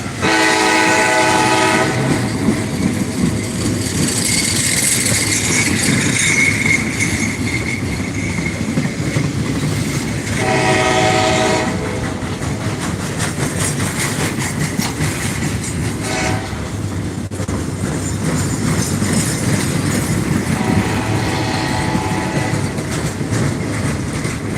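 A Conrail train passes trackside at Thurmond, West Virginia, with a steady loud rumble and wheel clatter, while its horn sounds in several long blasts, close and continuous throughout.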